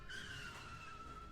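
A minivan slides on a snow-covered hill, a sustained tire skid with a steady squealing tone over low engine rumble, heard close and unbroken for a moment.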